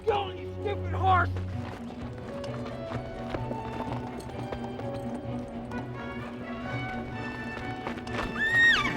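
A horse neighs and gallops in a 1990s drama, hooves clip-clopping steadily through a busy scene with music, and a whinny rising near the end; voices speak over it.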